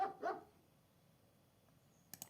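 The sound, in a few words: dog barking sound effect played from show control software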